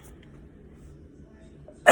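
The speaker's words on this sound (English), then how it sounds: "I'm getting ready to sneeze." One sharp, close sneeze bursts out at the very end after a near-silent pause.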